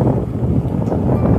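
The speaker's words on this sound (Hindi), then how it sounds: "तो यार बहुत हवा चल रही है यार" Strong wind buffets the microphone during a ride on a Pulsar motorcycle, a loud, dense low rumble that roars continuously and close with no other sound standing out.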